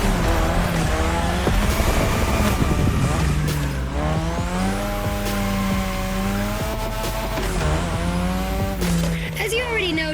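A car drifts on a drift track in The Crew Motorfest, the engine droning and rising and falling in pitch while tires squeal continuously. A voice speaks over it.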